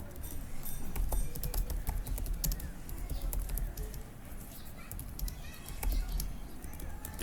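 Quiet, steady typing on a computer keyboard, with rapid irregular clicks of the keys in a close-up, low-level room.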